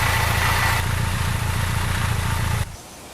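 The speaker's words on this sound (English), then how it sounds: "Loudest thing on that will be the mechanical noise from the engine." A motorcycle engine with an aftermarket exhaust runs with a loud, throaty burbling exhaust at steady revs, then cuts off abruptly near the end, leaving quiet.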